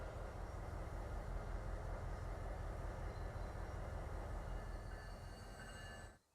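A freight train loaded with bauxite rolls along in Transport Fever 2, giving off a steady, dense rumble with a faint wheel squeal above it. The sound cuts off abruptly at the end.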